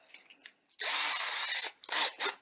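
A handheld power drill in a lutherie workshop whirs in two short bursts, a long steady spin then two quick pulses, close and loud, while the bit is swapped during acoustic guitar neck setting work.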